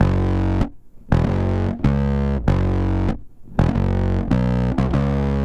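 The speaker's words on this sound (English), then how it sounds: "Really nice aggressive bass tone where the notes still come through really cleanly" Bass guitar played through parallel distortion, giving an aggressive tone in which the notes still come through cleanly. A few loud sustained notes sound alone, with short gaps between them.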